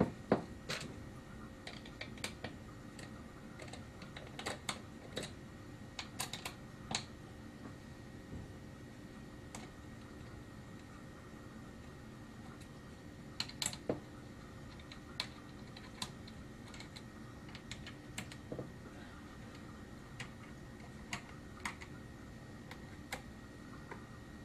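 Bolts being unscrewed from a Tippmann 98 Custom paintball marker give scattered small metallic clicks and ticks across a quiet room, coming in sporadic clusters with gaps in between.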